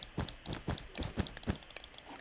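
Sharp clicking from a computer mouse at a desk during Minecraft bridging play, a rapid irregular series of close, crisp clicks with no voices.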